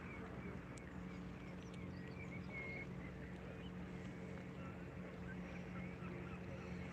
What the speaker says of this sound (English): another little boat coming in here now